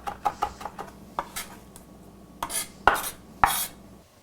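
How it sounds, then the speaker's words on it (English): A knife rough-chops fresh thyme and rosemary on a board in a home kitchen, giving scattered, uneven close taps and knocks with short pauses between them. "I'm gonna go ahead and rough chop up the thyme and rosemary"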